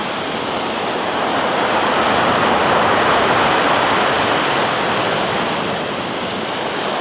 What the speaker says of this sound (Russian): О, вот он, 9-й вал.